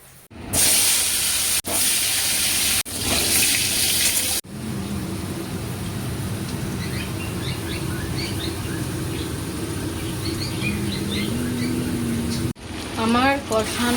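Water heating toward a boil in a cooking pot gives off a loud, steady hiss of steam that drops to a softer rushing hiss partway through, while a person talks over it.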